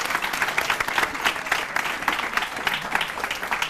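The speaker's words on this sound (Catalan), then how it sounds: "Benvinguts i aplaudiment, eh?" A studio audience at a school quiz show gives lively, continuous applause, with close, crisp claps rising and falling in a dense patter and no voices over it.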